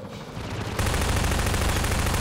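Rapid automatic gunfire in Half-Life 2, starting somewhat muffled and then jumping abruptly to a loud, dense, continuous rattle of shots that fills the rest of the moment.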